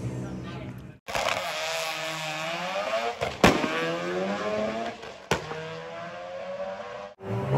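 VW Golf Mark 4 drag cars at Santa Pod rev hard and climb through the gears in repeated rising sweeps, with brief shift gaps, loud and close over a continuous engine roar.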